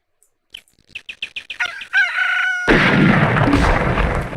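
Gunfire in the PC wargame Close Combat: a string of sharp, evenly spaced shots builds quickly, then a loud, sustained roar of mixed weapons fire and battle noise takes over.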